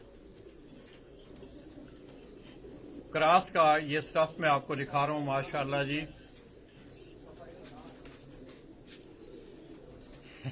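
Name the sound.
Firozpuri and Banke cross pigeons cooing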